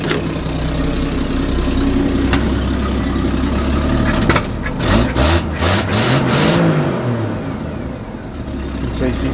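A car engine idles with a heavy rumble, then revs hard several times in quick bursts, rising and falling before settling back, loud and close.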